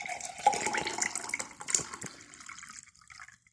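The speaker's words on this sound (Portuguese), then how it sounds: "Os capacitores são abastecidos com água com sal." Salt water pours and splashes steadily into capacitors of a radiant energy generator, a continuous trickling fill close by that tapers off toward the end, with no talking.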